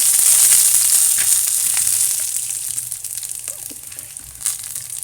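Chillies dropped into hot oil for a carrot chutney. A loud, hissing sizzle rises at first, then slowly settles and fades, with a few faint pops and crackles near the end.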